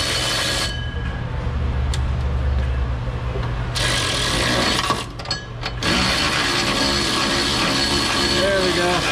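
A battery power tool backs a cross-threaded bolt out of a GMC 2500 truck during a differential-cover rebuild, running loud and steady for nearly the whole stretch with one short dip midway.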